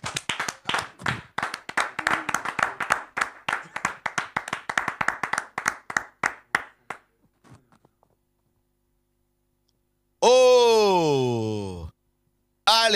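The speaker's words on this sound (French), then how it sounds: "On acclame encore l'évangile." A church congregation applauding the gospel, with rhythmic clapping in quick steady beats for several seconds before it dies away, followed by a loud sustained vocal exclamation.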